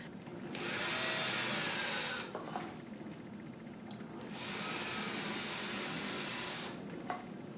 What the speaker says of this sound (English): use a drill to make little starter holes